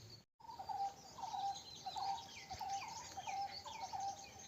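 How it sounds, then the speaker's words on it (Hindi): A bird calls in a jungle, giving a string of short, chirping notes repeated at a steady pace, about two per second, moderately loud over a dense insect hum. "यहाँ कहीं है चिड़िया।"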